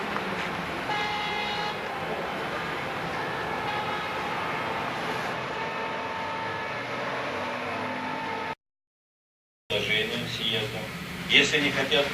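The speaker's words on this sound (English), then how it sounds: "Horns are honking." Car horns honk together at a memorial gathering held on the 40th day of mourning in the USSR while everyone stands; a dense, sustained blare fills the scene, breaks off for about a second near the end, then resumes.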